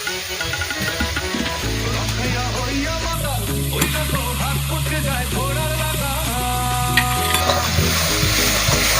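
Chopped tomato is stirred into sizzling spice paste in a pan while cooking a Bengali-style Gule fish jhal; continuous frying crackle and scraping strokes run beneath steady background music.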